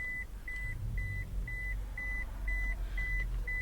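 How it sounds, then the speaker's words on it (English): A 2010 Toyota Hiace beeping repeatedly: a steady, evenly spaced series of about eight short, pure electronic tones, roughly two per second, moderately loud over a low background rumble. "That beeping's getting annoying."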